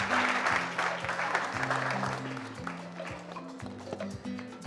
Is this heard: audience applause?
yes